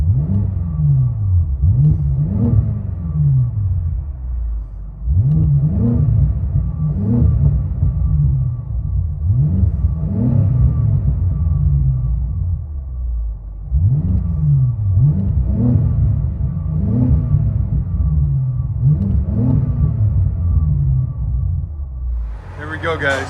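A catless 570 hp BMW X5 M with a full tune, heard from inside the cabin, revs repeatedly in rising and falling pulls, a loud deep rumbling engine cycling steadily throughout.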